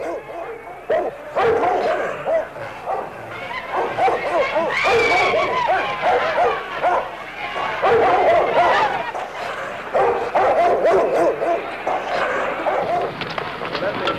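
Police dogs barking repeatedly at civil rights marchers during a city street protest, mixed with crowd noise and talking.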